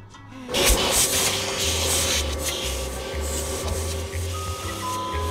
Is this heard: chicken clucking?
no